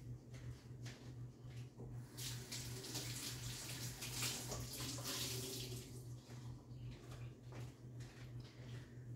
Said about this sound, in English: take a soft washcloth, get it wet with warm water